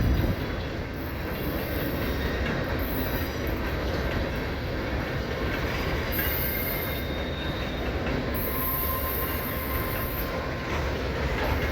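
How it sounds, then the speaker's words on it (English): An empty coal train rolls into the rail yard at CP Hall in Lincoln, Nebraska, with a continuous heavy rumble of wheels on track, metallic squeals and intermittent high-pitched wheel screeching, loud and sustained. "Empty coal drag coming in the yard, right behind the airplane train."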